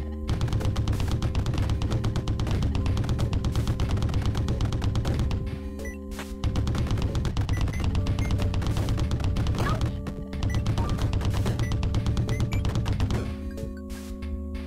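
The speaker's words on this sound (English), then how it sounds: "Alright, this machine gun's pretty nice." Sustained rapid machine-gun fire in the video game Dead Estate, loud and dense, running in long bursts with a few brief pauses over a droning background track.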